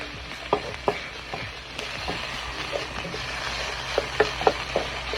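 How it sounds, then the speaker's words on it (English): Garlic, green onion and white onion sizzle in a pan for a frying rice dish, a soft continuous crackle broken by sharp clicks and scrapes of stirring. "you put the garlic, the green onion, and the white onion. Cook it for 30 seconds."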